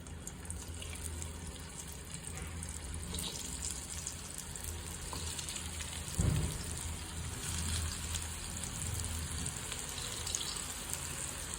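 Kothimbir vadi, coriander fritters, shallow fry in a little oil in a hot pan, giving a steady soft sizzle close by, with a brief clatter as a piece is placed in.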